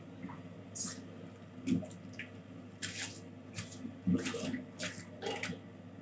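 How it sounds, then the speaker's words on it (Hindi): A kilo of rice, soaked for two hours, goes into a pot of boiling water with scattered splashes, drips and wet squelches, faint and close, while a kitchen hum runs underneath. "अब मैं इसमें डालने वाली हूँ चावल"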